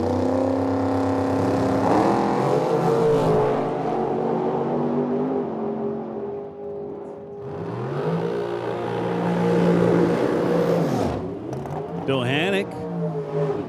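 Small drag racing roadster launching down the strip at a Medicine Hat, Alberta drag meet, engine revving in rising, wavering tones that swell and then sweep past loudly near the end, with an announcer's voice carrying over the noise.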